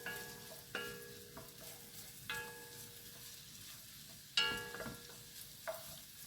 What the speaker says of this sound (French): je vais faire revenir mes oignons